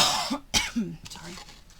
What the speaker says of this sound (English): I had to get a drink. I was coughing.